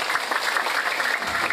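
Audience applause at a sholawat and religious talk gathering, a steady dense wash of clapping held throughout with no voices over it.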